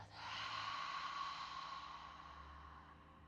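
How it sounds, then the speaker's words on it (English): A long, slow exhale through an open mouth during yoga breathing, a soft airy rush that swells quickly and fades gradually over about three seconds, heard close and alone. "breathe through both nostrils and exhale out through an open mouth"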